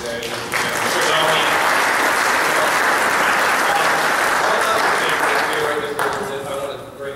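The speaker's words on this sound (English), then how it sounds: "how about a round of applause for Letson?" Audience applause at a governor's talk on state government and the natural gas industry: a dense, loud wash of clapping that swells in quickly and holds steady for several seconds before tapering off.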